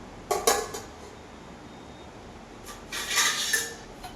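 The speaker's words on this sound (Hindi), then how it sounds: "तो ये लगा रहे हैं हम प्यारे भाई बहनों के लिए भोग की प्लेट।" Dishes and cutlery clink close by as offering plates of bhog are set out. Two short bursts of metallic rattling and tapping are heard, one near the start and a longer one near the end, with a quiet pause between.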